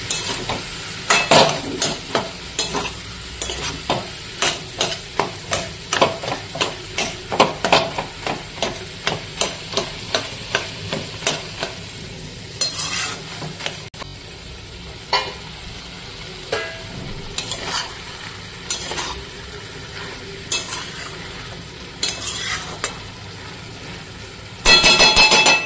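A spatula stirs and scrapes a pan of frying food in quick repeated metallic strokes over a continuous sizzle. The strokes come in a fast rhythm at first, then thin out to occasional clanks, with no voices.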